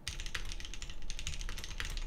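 Fast typing on a custom keyboard fitted with vintage West German Cherry MX Black switches, a dense run of crisp clacky keystrokes close to the microphone, with no voices.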